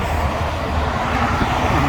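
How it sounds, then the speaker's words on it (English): Continuous road traffic roar beside a highway near Des Moines, a dense, steady low rumble of passing vehicles with no clear breaks. "Sorry for the traffic,"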